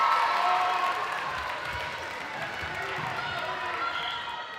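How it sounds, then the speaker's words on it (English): Netball crowd at an IMS All Stars match groaning and murmuring in displeasure at an umpire's call, a steady broad roar of many voices that eases slightly after the first moment. "the crowd are not happy about that decision either"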